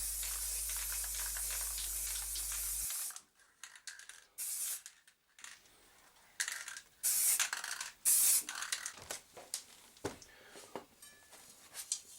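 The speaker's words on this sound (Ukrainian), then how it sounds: "Ну і як же ж тут без балончика чудотворного чорної краски." A spray can of black paint hisses in loud, close bursts, first one long steady spray and then a series of shorter stop-start sprays separated by pauses.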